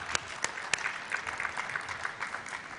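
Audience at a valedictory session applauds with fairly faint, sustained clapping, a few sharper claps standing out early, in a hall with no speech over it.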